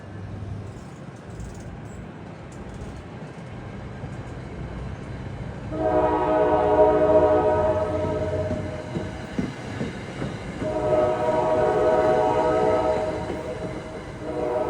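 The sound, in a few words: train passing with locomotive horn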